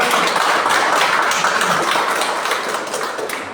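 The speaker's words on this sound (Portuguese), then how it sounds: "Aplaudindo ao Senhor com muita alegria" Congregation in a church breaking into vigorous sustained applause, many hands clapping densely and loudly, tapering slightly toward the end.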